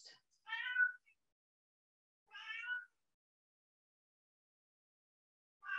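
A domestic cat meows three times in a quiet indoor room, with short, clear, fairly soft calls spaced a couple of seconds apart and silence between them.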